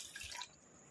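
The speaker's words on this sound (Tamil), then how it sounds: "அதனால் நான் 1 டம்ளர் அளவுக்கு இதை தண்ணி சேர்த்துக்கிறேன்." Water from a tumbler poured into a pot of rice before boiling, a short splashing pour that stops abruptly, leaving quiet room tone.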